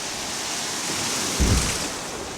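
Kayak dropping over a ledge on Antietam Creek, with a steady broadband rush of creek water and a brief louder low surge and splash as the boat goes over the drop.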